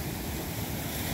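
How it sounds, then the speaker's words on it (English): Waves breaking on a rocky Lake Michigan beach with a small retaining wall, a steady, even wash of surf filling the scene at moderate distance, with no voices. "with all these waves right now"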